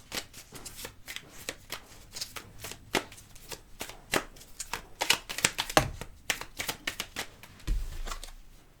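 Lenormand cards being shuffled and laid out, a close string of papery riffles and flicks with soft slaps as cards land, uneven rhythm, no voices.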